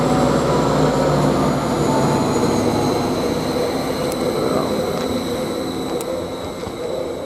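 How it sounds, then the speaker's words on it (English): A Greater Anglia passenger train leaves Bury St Edmunds station with a steady, close rumble of wheels and motors and thin high squeals from the wheels, easing slightly as it pulls away. "this train is ready now to depart, which is the Greater Anglia, 11:59 service from Ipswich to Cambridge"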